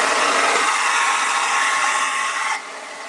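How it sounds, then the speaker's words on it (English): A hair dryer blows steadily on wet green paint, a loud, close, even whoosh that drops to a lower setting near the end. "I'm going to blow dry some of the green"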